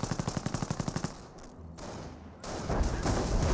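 A mortar half-track fires rounds in the Company of Heroes video game. A rapid run of about a dozen sharp thumping shots opens the clip, followed by a quieter rumble and then denser, louder battle noise.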